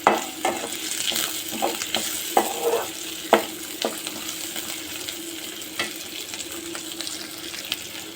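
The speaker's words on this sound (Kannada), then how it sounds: "ಚೆನ್ನಾಗಿ ಫ್ರೈ ಆಗಬೇಕು ಈರುಳ್ಳಿ. ಫ್ರೈ ಆಗ್ತೈತೆ." Onion frying with ginger and garlic in a pan, a soft steady sizzle broken by frequent scraping stir strokes and light clinks, close and without talk.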